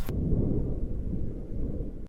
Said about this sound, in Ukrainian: ще літній грім і голоси птахів